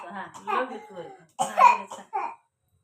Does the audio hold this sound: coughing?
yes